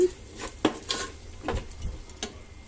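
Mutton biryani masala stirred in a pot with a spoon, several scraping clinks and soft wet sizzling strokes at uneven intervals, close and moderately quiet, no talking.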